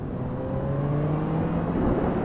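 Yamaha MT-09 Y-AMT naked motorcycle engine held at a steady, continuous rev under throttle, a close, loud engine drone with a rising tonal whine and no speech.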